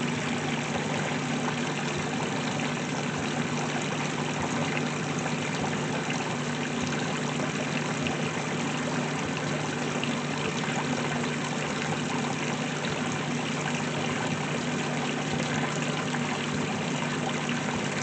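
A GE 2024 top-loading washing machine filling with water, a steady, loud, continuous rushing hiss with no break, no voices.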